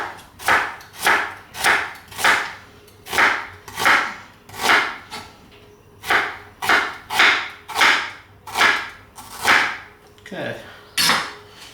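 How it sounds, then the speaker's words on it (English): A knife chops through a purple onion on a cutting board in a steady series of about a dozen crisp, evenly spaced thuds, close and distinct, with no talking over them. "I got 1 purple onion over here. So I'm going to chop these up."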